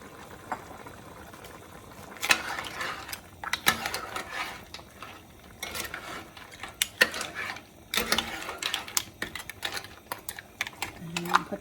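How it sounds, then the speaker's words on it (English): Shrimp going into a pot of seafood soup on the stove: sporadic clinks and clatters of utensils and cookware over a soft simmering hiss, with a voice talking quietly in between. "I'm going to put in my shrimp now because that cooks the quickest."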